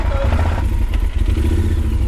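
A motorcycle engine rumbles steadily up close, with some clatter and a voice speaking over it.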